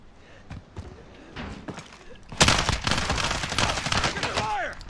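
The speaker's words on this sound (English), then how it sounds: "Taking fire over here" Gunfire in the video game Warzone starts as scattered single shots, then erupts into loud rapid bursts mixed with impacts, with players talking over the firing.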